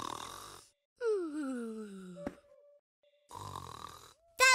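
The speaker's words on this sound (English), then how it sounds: "That sounds like snoring. But who snores that loud?" Loud, exaggerated cartoon snoring in a children's animated show, a few long drawn breaths with wheezy whistling tones, separated by brief pauses, sounding cartoonish rather than natural.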